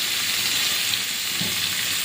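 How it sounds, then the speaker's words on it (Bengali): Shrimp frying in hot oil in a wok for a prawn and taro curry, a steady close sizzle and crackle of oil that holds evenly throughout, with no talk. "চিংড়িটা আর একটু ভালো করে ভেজে নেব"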